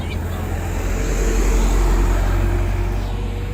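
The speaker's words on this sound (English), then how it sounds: "You'll see this is the trucks that are coming past us." Heavy trucks rumble past on a road beside a stopped car in Africa, a loud, close, continuous low roar that swells and fades slightly as vehicles go by, with wind noise.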